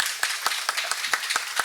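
Audience at an academic conference claps for an organizer, with a few sharp, evenly spaced claps standing out over a softer spread of applause in a brief burst.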